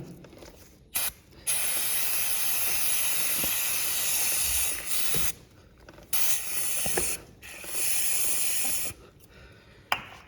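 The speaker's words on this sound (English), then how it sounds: "we'll just spin the wheel and apply the cleaner" Chain cleaner sprayed onto a chain while the wheel spins, heard as several close hissing spray bursts of a second or two each, separated by short quiet gaps, with a faint mechanical ticking underneath.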